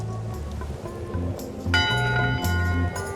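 A ship's bell rings aboard a pirate ship in the video game Return to Monkey Island, clear metallic strikes over a looping low musical background, the later strikes louder and brighter.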